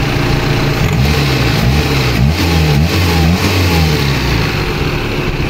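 A 1994 Daihatsu Classy car engine, close and loud, revs up and down in repeated swells over a steady running drone, with no talking.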